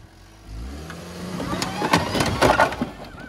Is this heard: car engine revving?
yes